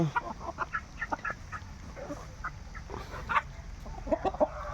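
Kakkera country roosters and hens on a poultry farm give repeated short clucks and calls at close to middling distance, scattered irregularly over quiet farm background.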